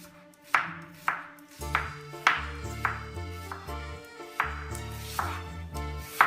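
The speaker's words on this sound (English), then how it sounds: "we can start with chopping our onion" Knife chopping onion on a board before heating olive oil for a bell pepper peperonata, a handful of sharp, evenly spaced cuts heard close up over a steady tonal music bed.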